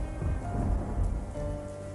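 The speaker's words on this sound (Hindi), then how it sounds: "ये बारिश का सिलसिला यूं ही कुछ दिन तक जारी रहता है।" Steady rain comes down over a poor family's home in cold weather, a dense wash with a low, rolling rumble of thunder underneath, no voices.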